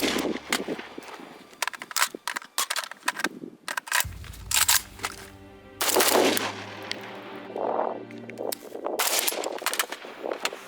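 Rapid bursts of rifle fire from an AK-74 shooting 5.45 ammunition fitted with a muzzle brake, sharp loud reports in quick strings and single shots scattered across the clip with brief gaps between.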